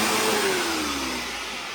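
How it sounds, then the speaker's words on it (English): A Eureka Whirlwind Litespeed vacuum cleaner runs steadily and loud throughout, its motor pitch sliding slightly lower as it begins to wind down. "Otherwise, I'm going to turn this vacuum off, and we'll get back to it."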